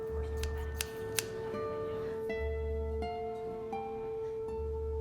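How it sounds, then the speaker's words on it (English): Scissors snip through paper among journaling supplies at a desk, giving a few short, crisp cuts over a low steady hum, with faint clinks and ticks of tools nearby. "scissors, just wait here for a satisfying sound"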